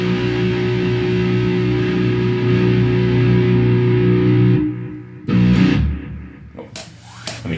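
An electric guitar plays through an amplifier with a noise gate, first a sustained distorted chord ringing for several seconds, then a few sharp strummed hits and choppy muted chords.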